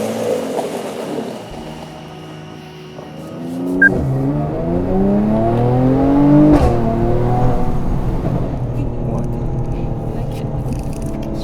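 A Mercedes-AMG C43 engine revs up and accelerates, its rising harmonic whine climbing steadily and peaking before settling into a steady drone, with people talking over it.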